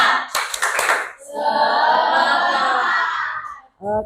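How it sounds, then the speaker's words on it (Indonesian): A classroom spirit clap: a few quick sharp hand claps, then a burst of children's voices, with more claps closing the short sequence. "Tepuk semangat."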